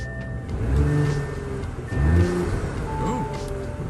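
An Audi B9 SQ5 engine with a 034 Motorsport cold air intake revs up twice in quick surges, a throaty intake roar rising and falling, recorded nearby with faint background noise.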